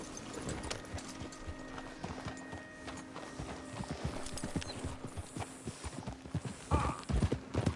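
Horses' hooves clip-clop steadily in Red Dead Redemption 2 as a group rides along, a dense, close rhythm of hoofbeats with a brief whinny near the end.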